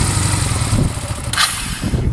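A motorcycle engine runs steadily at close range as a beginner rider lets the clutch out, a continuous low rumble with a brief higher rise partway through.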